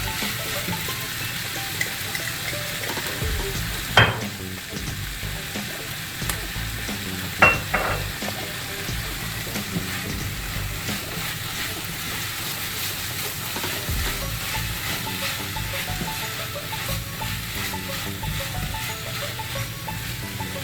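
Sautéed vegetables with chili sauce being stirred in a pan, a continuous close sizzle with scraping strokes and a couple of sharp clinks of the utensil against the pan, no talking.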